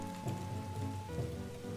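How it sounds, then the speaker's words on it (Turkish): Steady rain falling at night in a Roblox forest survival game, a soft continuous patter under a low game hum, with no talk. "Yağmur dur kardeşim ya"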